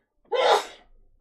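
One sharp, close sneeze bursts out abruptly and tails off quickly in a breathy fade, surrounded by near silence.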